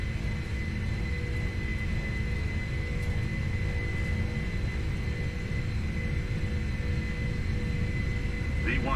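A Boeing 747-400F takes off in the P3Dv4 flight simulator game with a steady, dense engine roar and low rumble that holds constant throughout, with no talking.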